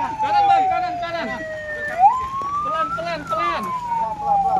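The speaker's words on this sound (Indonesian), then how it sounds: "Ambulan. Masuk. Kasih jalan." Wailing ambulance siren at a roadside crash scene between a bus and trucks, rising and falling in long sweeps, loud and close, with people shouting and talking over it throughout.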